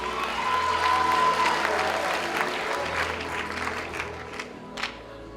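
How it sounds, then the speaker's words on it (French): An audience at a film awards ceremony applauds in a steady wash of clapping that fades gradually, with a few scattered claps and faint crowd murmur near the end. "On les applaudit très très fort."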